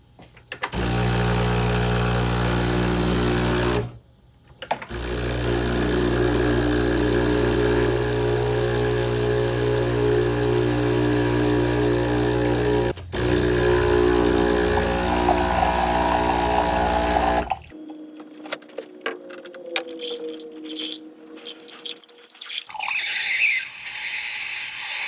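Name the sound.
Breville Barista Express espresso machine pump running, spraying water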